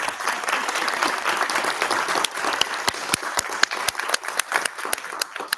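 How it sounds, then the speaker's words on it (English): Applause at a 2024 National Junior Honor Society induction ceremony at Aspire Charter Academy: a crowd's steady clapping that thins out toward the end into scattered sharp, individual claps, with no talking. "can we please give them another round of applause"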